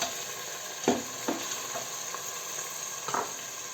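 Tomato paste stirred into sautéing carrot and onion in a frying pan, a few scraping strokes of the spoon over a steady low sizzle.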